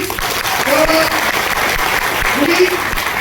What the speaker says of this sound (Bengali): ওনার জন্য একটা জোরে তালি দিন